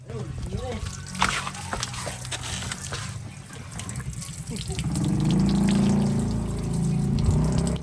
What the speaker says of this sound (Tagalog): Pagka binuksan mo tong takip ng radiator sa taas ay bibilis ang daloy ng pagdadrain mo sa baba.